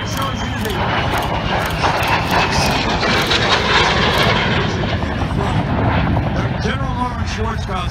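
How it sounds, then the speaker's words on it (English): Harrier jet performing at the Dayton Vectren airshow, its engine roaring loudly and steadily throughout, with an announcer talking over the noise. "Schwarzkopf said the Harrier in the Gulf War was one of the most effective tools in the success of that war."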